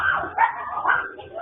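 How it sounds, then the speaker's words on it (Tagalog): Dogs at a house in Binangonan, Rizal bark and yip in quick bursts, sounding thin and compressed as if picked up by a security camera. "Pati mga aso nagtatahulan."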